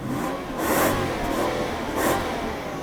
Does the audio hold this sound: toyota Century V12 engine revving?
yes